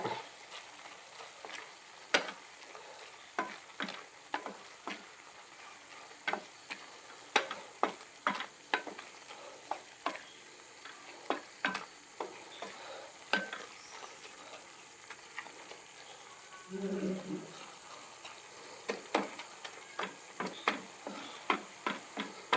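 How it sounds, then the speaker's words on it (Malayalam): Spoon stirring and scraping through a pan of frying food with black pepper in a home kitchen, steady close clicks and scrapes over a low sizzle, with a brief heavier rustle midway. "നന്നായിട്ട് ഇളക്കി കൊടുക്കുക"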